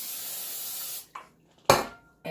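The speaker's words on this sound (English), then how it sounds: "spray the bottom of my" Cooking spray hisses into the bottom of an air fryer basket, one long steady burst followed by a couple of short, louder spritzes, close and distinct with no talking.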